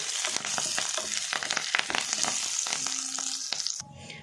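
Urad dal and other lentils frying in oil in a pan over a slow flame, giving a steady close crackling sizzle that cuts off near the end.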